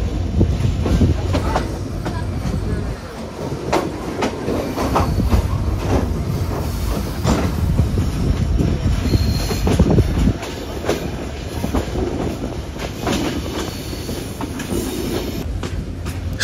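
The Chitra Express passenger train rolls along the rails in Bangladesh, with steady clattering wheels, rhythmic clickety-clack and occasional squeals heard from inside the carriage, continuous and fairly loud.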